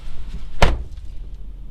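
A Chevrolet Silverado 5500HD 4x4 crew cab dump truck with a Duramax diesel idles as a low, quiet rumble, broken by one sharp thud of the cab door shutting, heard from inside.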